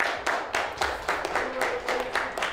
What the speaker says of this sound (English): Let's clap it up for Glock 30.